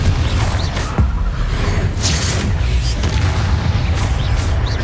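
Confringo fire spell blast in Hogwarts Legacy, a loud booming whoosh over a constant low roar, with brief bright bursts and crackles through the blast.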